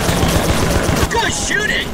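Rapid automatic gunfire in the sci-fi shooter video game Rogue Trooper Redux: a loud, dense rattle of repeated shots close up, followed by whooshing and ricochet-like effects, with voices talking over the battle.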